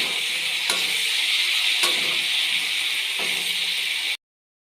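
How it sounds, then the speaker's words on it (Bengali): Fish frying in hot oil with whole cumin seeds, a steady loud sizzle and hiss that runs for about four seconds with a few brief stirring scrapes, then cuts off abruptly. "মাছ ভাজছি, গোটা জিরে ফোড়ন দিলাম, মাছের তেলেই ভেজে নেব।"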